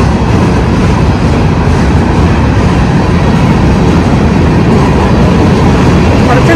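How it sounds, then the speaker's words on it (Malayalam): A long goods train crossing a big river bridge makes a loud, continuous roar and rumble heard from right beside the tracks, steady throughout without pause. "ഞങ്ങളുടെ കാലിനടിയിലൊക്കെ ഇളകുന്നുണ്ട് ട്രെയിൻ പോകുമ്പോ"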